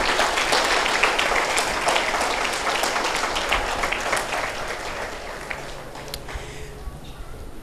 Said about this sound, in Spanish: Denle una pausa de palmas al Rey.